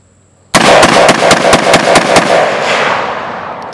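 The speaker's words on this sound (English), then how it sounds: "Chris is going to shoot it real fast, standing up." A SIG716 Gen 2 patrol rifle fired rapidly by a standing shooter outdoors, a quick string of about ten loud, sharp shots in an even rhythm, ringing off into a fading echo.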